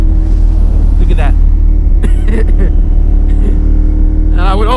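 A motorcycle with an aftermarket exhaust revs loudly and close by with a deep, throaty exhaust note, rising in a few sharp bursts over a constant rumble.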